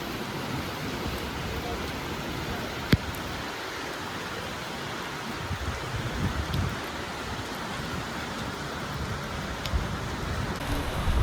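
Heavy rain falls at a beach as a dense, steady hiss mixed with broad rushing noise of surf and wind, continuous and fairly loud, with an occasional faint click.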